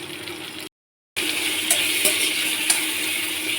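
Lentils (dal) bubbling and frying in a pan make a steady sizzle with small pops, broken by a brief silent gap before resuming louder.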